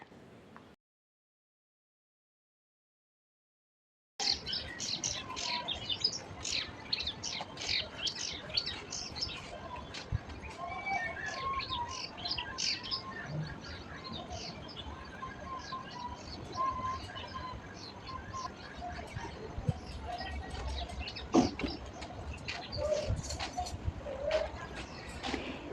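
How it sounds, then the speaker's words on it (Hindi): Morning birds chirp and tweet in quick, repeated calls, with some cooing, continuous and moderately near after a short silent gap at the start, with a faint vehicle in the background. "यहाँ पर आपको चिड़ियों की चहचहाहट साफ-साफ सुनाई दे रही होगी।"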